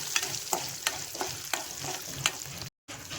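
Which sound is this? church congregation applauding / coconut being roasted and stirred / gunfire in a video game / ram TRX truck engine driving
coconut being roasted and stirred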